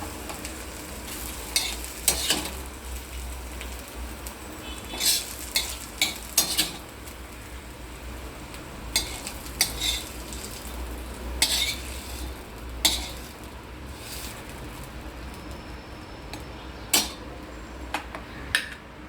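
Cooked eggplant scraped and scooped off a hot iron griddle onto a plate, with a steady low sizzle under repeated metal scraping and clinks, close and moderately loud, no talk.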